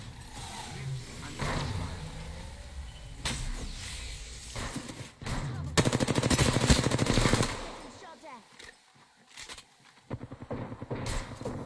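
Rapid automatic gunfire in an online shooter match, loud bursts and single shots with mechanical clatter, a player talking over parts of the action.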